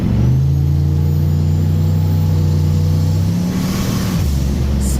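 Chevrolet Caprice Landau racecar engine revving hard through a third-gear pull, a loud steady drone holding pitch before easing off near the end, with no talking.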